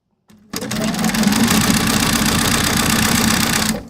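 A sewing machine stitches fabric pieces together, starting abruptly into a fast, steady mechanical whirr with a regular rapid clatter, loud and close, then stopping.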